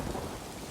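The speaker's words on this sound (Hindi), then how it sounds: "अब देखो बाहर कितनी बारिश हो रही है।" Heavy rain pours outside in a cartoon scene, a dense, steady wash of noise, close and continuous, with a low rumble beneath it.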